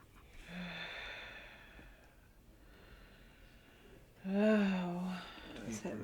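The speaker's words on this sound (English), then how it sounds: "Just keep breathing." A woman in labour breathes heavily through slow, effortful breaths, some with a low voiced groan, while another person speaks quietly nearby; the breaths grow louder and strained toward the end.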